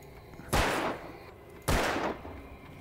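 Two loud, booming gunshots fired in the Alan Wake video game, spaced about a second apart, each with a broad blast and a decaying tail over a low background hum.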